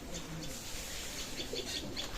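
Teddy pigeons in a loft, a pair for sale, giving soft intermittent coos and faint chirps over a steady bed of background noise, moderately near and fairly quiet.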